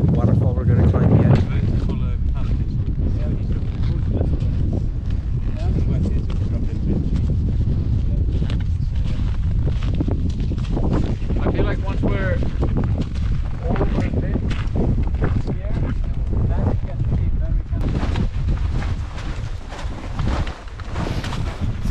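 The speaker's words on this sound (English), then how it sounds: "So it's a bit windy." Gusty winter wind at Glymur Waterfall, Iceland, buffets the microphone in continuous low rumbles and thumps, rising and falling throughout.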